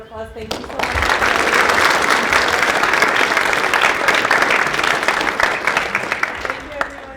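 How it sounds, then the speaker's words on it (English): Sustained audience applause fills the room at a middle school event with a Holocaust survivor speaker, loud and steady for about seven seconds after a brief opening, with a few voices mixed in under the clapping. "can we just get one more round of applause?"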